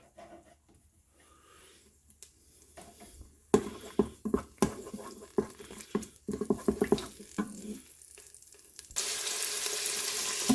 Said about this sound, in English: So right now it's on saute. I got some chopped garlic. I put a little bit of oil in the pot.